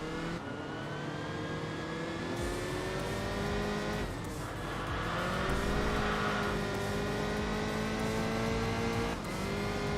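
McLaren race car in Enthusia Professional Racing, its engine droning steadily at high revs with rising and falling pitch as it pulls ahead, loud and continuous with brief gear-change dips.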